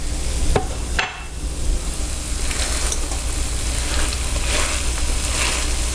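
Green onions added to chicken for keto lettuce wraps in a hot pan, setting off a loud, steady sizzle with a couple of sharp scrape or tap sounds from stirring near the start, and no talking.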